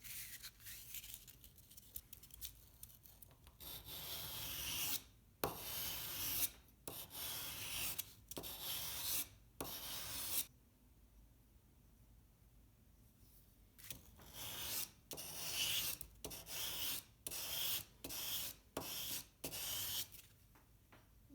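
Sandpaper scrapes along the spine of a steel knife blade to regrind the tip, a run of close, rhythmic rasping strokes with a quieter pause midway, no talking.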